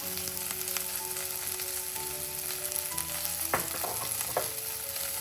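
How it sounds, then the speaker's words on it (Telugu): Ivy gourd and chili powder fry in oil with a constant close sizzle, then a few clattering stirs near the end. "అప్పుడు ఏమవుతుందంటే కారం అంతా వేగుతుంది మంచిగా"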